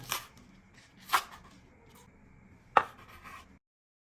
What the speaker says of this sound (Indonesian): Untuk daun bawangnya saya belah dua dulu dan saya potong memanjang seperti ini